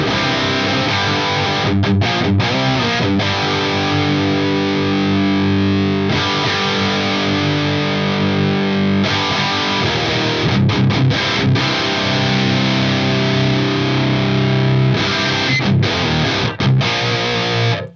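Electric guitar played through an Axe-Fx III running a Recto amp model with the treble set around 4, heavily distorted chords ringing out continuously with brief gaps between phrases, loud and alone.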